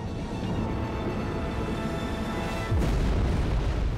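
Deep, rumbling booms from a documentary sound effect of the explosions aboard the Kursk submarine, a sustained low roar that swells suddenly louder partway through and keeps rolling.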